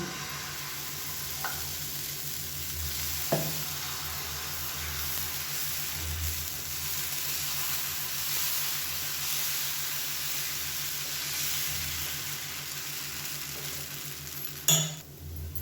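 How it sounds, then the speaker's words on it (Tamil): Kattuyanam rice dosa batter sizzling steadily on a hot pan, a continuous close hiss and crackle with a couple of brief clinks of a utensil, no talk. "இப்போ இதே மாதிரி மிச்சம் இருக்க தோசையும் ஊற்றிக்கலாம் மாவை."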